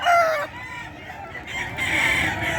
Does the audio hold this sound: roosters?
yes